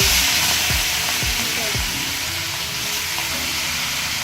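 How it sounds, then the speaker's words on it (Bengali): Large pieces of catla fish frying in hot mustard oil, a loud dense sizzle right up close with a few sharp spits and crackles early on, continuing steadily throughout. "এবার মাছের বড় বড় টুকরোগুলো চলে যাবে হচ্ছে তেলের মধ্যে দিয়ে দাও ভাজার জন্য"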